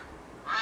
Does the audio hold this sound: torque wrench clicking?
no